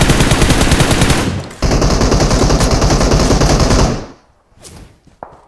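Automatic gunfire in the PUBG Mobile video game, a loud rapid burst of shots that breaks off briefly, resumes for a couple of seconds, then stops, leaving a few faint clicks.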